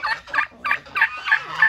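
Turkey hens call insistently for a male in a poultry yard, a run of about six rhythmic gobbling yelps, close and fairly loud, with no talking over them.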